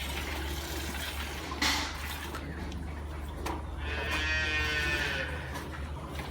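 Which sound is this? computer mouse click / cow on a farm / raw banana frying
cow on a farm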